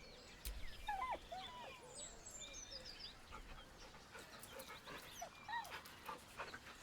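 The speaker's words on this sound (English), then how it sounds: "He whines, but remains rooted by the corpse's side." In Baldur's Gate, a dog whines softly and pants in short breathy bursts, the high whimpers rising and falling over faint ambient noise, quiet and without speech.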